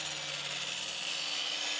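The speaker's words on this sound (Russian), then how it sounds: "Она без проблем режет древесину, значит с мелкими корнями справится спокойно." A shovel blade sharpened to a keen edge cuts into wood with a steady, raspy scraping and rubbing, close and fairly quiet, continuous throughout.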